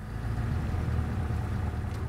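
A vintage Auburn car engine running just after starting by its Startex automatic starter, a steady loud low rumble close by with no talking.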